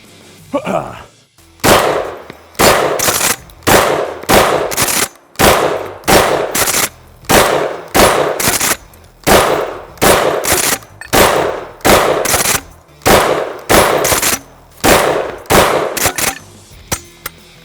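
A DP-12 double-barrel pump-action shotgun fired outdoors: about sixteen loud, booming shots in a steady rhythm roughly one second apart, each followed by a short pump clack, with a few words spoken early on.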